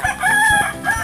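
A chicken clucks and crows nearby, loud and short, with several bursts of calls and no talk over them.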